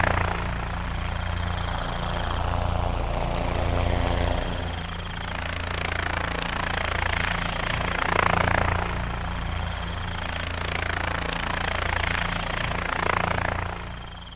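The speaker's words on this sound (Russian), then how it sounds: "ему на помощь пришел вертолет" A cartoon helicopter's steady rotor drone and engine hum fill the scene at moderate distance, rising and falling in intensity over a low rumble.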